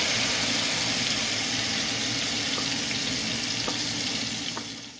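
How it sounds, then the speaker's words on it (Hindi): Onion and cumin sizzle steadily in hot oil in a pan, a loud, dense crackle that holds throughout and fades slightly at the end, with no voices. "मैंने एक पैन में ऑयल डाल के जीरा डाला है और साथ ही में मैंने प्याज डाला है"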